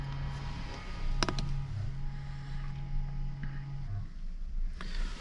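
Electric parking brake motor on an Audi Q2 whirring steadily as it retracts the rear caliper piston, a sustained close mechanical hum of about three seconds with a couple of sharp clicks near the start.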